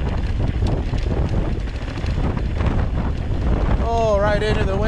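Strong wind roars and buffets the microphone while mountain biking on a trail in Jonkershoek Nature Reserve, South Africa, a steady loud rush throughout, with a rider's voice briefly exclaiming near the end.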